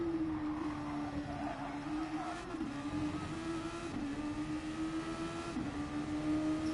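Race car engine at an FIA Nations Day event, a sustained droning note held at steady revs with brief dips at each short-shifted gear change, continuous and moderately close, with no voices.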